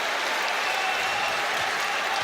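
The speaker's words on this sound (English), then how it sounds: "And the crowd have pumped the volume up here to 11" A basketball crowd at a National Basketball League game between Adelaide and Perth roars and cheers loudly in a dense, continuous wall of noise.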